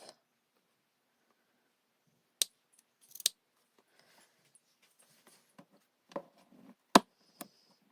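Scissors snip loose yarn ends while changing yarn colour, a few sharp isolated clicks and snips spaced over several seconds, close and fairly quiet with no talking.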